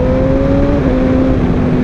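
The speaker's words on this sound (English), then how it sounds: "Let's go ride motorbikes. Quick shifter away." A Honda CBR1000RR motorbike fitted with a Bazzaz quick shifter is ridden at speed, a loud, steady engine drone with a rising pitch toward the end, close to the listener.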